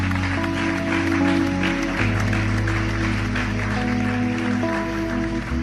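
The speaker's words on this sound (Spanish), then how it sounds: "Dale un aplauso fuerte al Señor." A church congregation claps steadily throughout, a broad wash of applause at moderate level layered over sustained organ or keyboard chords that shift partway through.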